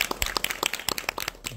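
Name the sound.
audience applause for the actor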